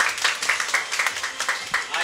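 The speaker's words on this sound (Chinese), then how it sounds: "掌声欢迎 Neo" Sparse, rhythmic hand clapping from a small group at an AMD press conference opening, welcoming the marketing director to the stage; the claps come at a regular beat and sound close but modest.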